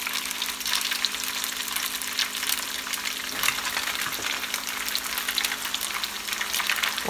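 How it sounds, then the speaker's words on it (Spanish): Spam and onion frying and sautéing together in a pan for a traditional Okinawan breakfast, giving a steady dense sizzle with crackling spits throughout, loud and close, with no talking. "Y a la misma vez vamos a estar haciendo lo que es el salteado de la cebolla"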